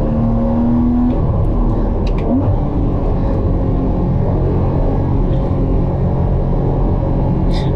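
A Porsche Cayman 981 with a 2.7 engine and PDK gearbox pulls hard along a forest road without a sport exhaust, its loud, steady engine drone filling the cabin with a brief pitch shift early on.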